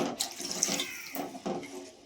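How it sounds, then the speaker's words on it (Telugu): Water pours from a vessel into a pot of cashew pakoda curry, a brief, soft run of splashing and trickling heard alone, quiet and close. "ఇప్పుడు మనం దీంట్లో తగినంత వాటర్ పోసుకుందాం."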